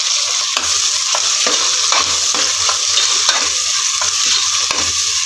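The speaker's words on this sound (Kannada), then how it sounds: "ಈರುಳ್ಳಿ ಚೆಂದ ಫ್ರೈ ಆಗಬೇಕು." Chopped onions sizzle in hot oil with mustard seeds in a village-style home kitchen pan, with a steady frying hiss broken by regular scraping stirs of a spoon, close and alone.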